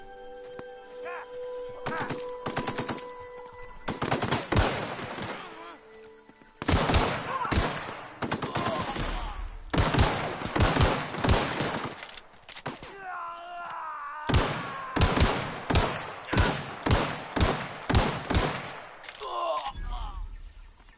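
Video game machine gun fire rattles in several long, loud bursts separated by brief pauses, with other game sounds in between.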